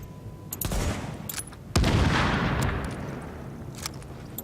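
Gunfire from the video game The Division: a sustained burst of rapid shots, then a loud boom that rings out and slowly decays, with a few sharp clicks afterward.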